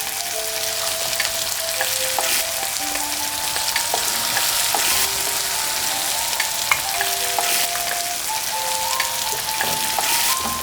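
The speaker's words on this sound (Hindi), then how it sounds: "अब अपन डालेंगे बारीक कटे हुए टमाटर" Finely chopped tomatoes frying with browned onions in a pan for dhaba-style butter paneer masala, a steady close crackling sizzle with occasional stirring scrapes, no talking.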